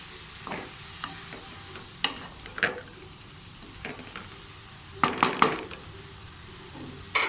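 Okra curry stirred in a pan, with a spoon scraping in scattered strokes and short bursts, loudest near the end, over a soft steady cooking hiss. Close and alone, with no voices.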